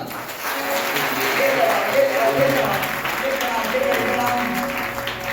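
A church congregation claps hands together in a steady, lively round, with voices mixed in beneath the clapping.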